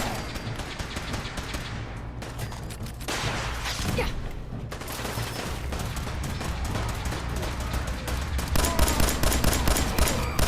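Dense bursts of automatic gunfire in Fallout 4 on PS4, rapid volleys layered over one another in a loud, continuous firefight with a heavier barrage toward the end.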